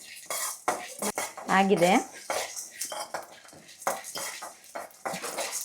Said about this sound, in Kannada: ಇದನ್ನು ಸ್ವಲ್ಪ ಡ್ರೈ ರೋಸ್ಟ್ ಮಾಡಿಕೊಂಡು ಸ್ವಲ್ಪ ಘಮ ಬರೋವರೆಗೂ ಪೌಡ್ರ್ ಮಾಡೋಣ